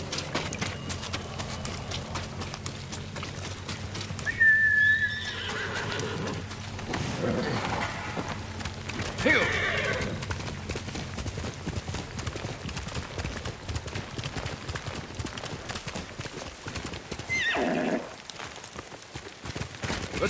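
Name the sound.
horse galloping and neighing in the video game Ghost of Tsushima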